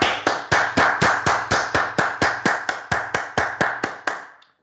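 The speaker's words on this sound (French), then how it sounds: "Applaudissons le Seigneur." Rhythmic group applause during a church service, about sixteen sharp, evenly spaced claps like a congregation clapping in unison, loud and close, fading out at the end.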